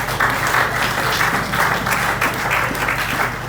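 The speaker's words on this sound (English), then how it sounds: "If you want to clap for Jesus," A church congregation at a Sunday miracle service claps for Jesus, a steady, dense wash of applause filling the room with a few louder hand strikes rising above it.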